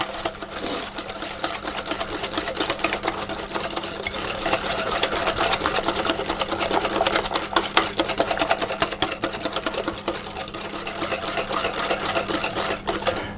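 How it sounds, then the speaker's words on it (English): A whisk clatters rapidly and steadily against a bowl while brownie batter of eggs and sugar is beaten until pale, a continuous close, even rattle with no talking. "I'm going to whisk those around until they're all combined and it's a nice pale mixture."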